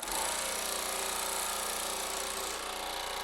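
A Baileigh PH-19 power hammer runs steadily with a loud, continuous mechanical buzz and rapid hammering chatter that stays even throughout.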